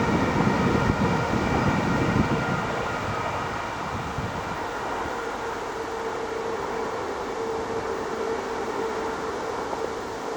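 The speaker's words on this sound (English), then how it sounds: "The old train set back in operation." An old restored train rumbles past nearby in the countryside near Royston, loud at first and easing into a steady rolling drone mixed with wind noise, with no voices.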